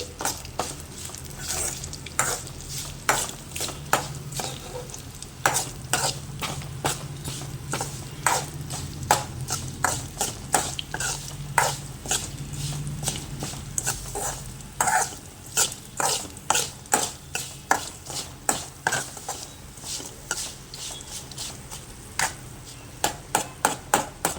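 Vegetables sizzle steadily in a pan for a spicy cucumber roti pachadi, with frequent close clicks and scrapes of a spoon stirring throughout; no one speaks.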